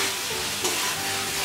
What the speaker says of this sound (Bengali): ভাজা আলুটা দিয়ে আর একটু নাড়াচাড়া করে